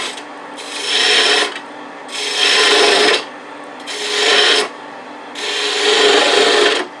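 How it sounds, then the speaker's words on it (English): A 3/8 inch spindle gouge rounds over a wood bead on a spinning lathe, producing four loud, close scraping passes, each about a second long and separated by short pauses, with no talking. "Using a 3/8 inch spindle gouge. Round it over."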